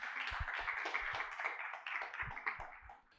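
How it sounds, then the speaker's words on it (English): An audience at a conference panel applauds, a burst of many hands clapping that stays fairly loud, then thins and fades out toward the end. "Please give them a round of applause."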